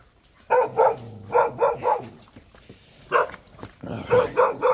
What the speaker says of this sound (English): Got to keep these dogs at bay with a stick behind me.